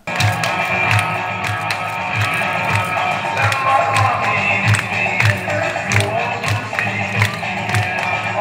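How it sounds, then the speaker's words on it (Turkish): An audience at an 80s-themed mothers' fashion and dance show claps steadily, rhythmic applause and crowd noise filling the space, with loud music beneath. "alkış aldı."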